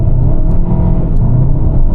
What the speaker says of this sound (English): let's see how quickly it gets up to speed. So I'll go foot flat from 0.